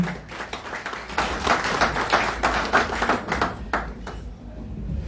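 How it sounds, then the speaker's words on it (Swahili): Crowd applause at a church event in Kenya as a guest is welcomed, a few seconds of dense clapping from many hands that swells and then thins out. "Tumpigie makofi."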